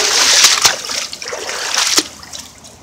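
Splashing through ankle- to knee-deep flood water during a hurricane in Florida, with repeated close, irregular splashes and sloshing footsteps, sharp bursts near the start and again around two seconds.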